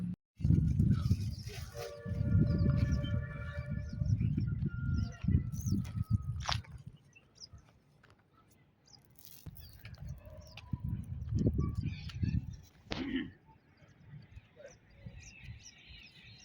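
Small birds, pigeons and sparrows, chirp and tweet in a scattered, busy chorus around a feeding spot, with a few clucking fowl-like calls mixed in and people talking close by throughout.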